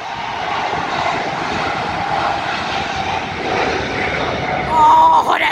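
A Cargolux Boeing 747-8 freighter takes off, its jet engines producing a broad, steady roar that builds louder toward the end as the aircraft climbs past.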